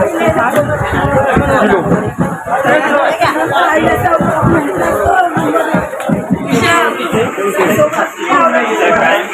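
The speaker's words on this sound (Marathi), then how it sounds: "गर्दी तर खूप होती." Dense crowd chatter of many pilgrims at the Ekveera temple in Lonavala, a loud continuous babble of overlapping voices that carries on steadily throughout.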